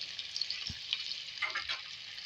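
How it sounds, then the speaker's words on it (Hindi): Ridge gourd and potatoes fry in a pan with a faint, steady hiss of sizzling oil and a few soft stirring knocks, quiet and close. "इसको 2 मिनट हम फ्राई करेंगे।"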